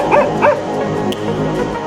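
Two dogs held in confinement give short yips and whimpers, a couple of quick high cries near the start followed by softer whining, close and fairly loud against a steady background din.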